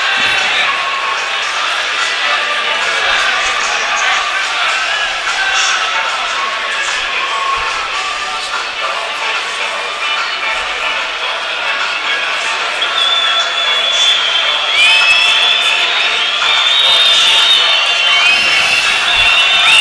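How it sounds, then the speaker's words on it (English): Steady roar of a football stadium crowd gathering before a Europa League match, a dense murmur of many voices filling the space with scattered whistles and shouts rising toward the end. "Said crowd's still starting to come in here."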